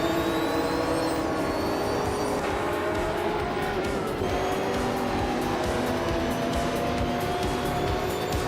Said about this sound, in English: Holster is racing a 1994 Bugatti EB110 LM